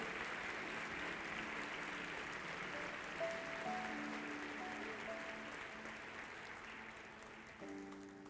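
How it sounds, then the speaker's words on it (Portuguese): A church congregation claps for several seconds, a dense, fairly distant wash of applause with faint tonal sounds weaving through it and fading slightly toward the end. "Você pode aplaudir ao nome dele?"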